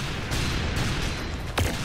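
Gunfire in the Roblox shooter Arsenal, a short burst of rapid game shots with dense crackling bursts and one sharper crack near the end, loud and close with no talk.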